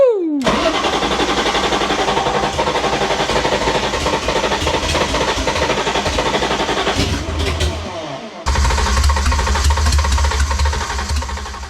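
A BMW E30 M3 fitted with a swapped-in S54 engine cranks and fires, then settles into a loud, steady, close running drone that dips briefly before surging again.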